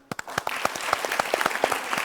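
A studio audience at a national-final quiz event claps for the contestants, with sharp, fairly sparse handclaps that quickly build into steady applause.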